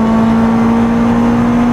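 A Honda Civic fitted with the Type R B16B VTEC engine holds a loud, steady high-rpm howl, the engine note close and unbroken throughout with no voices.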